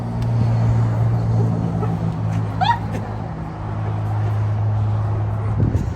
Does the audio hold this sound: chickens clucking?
no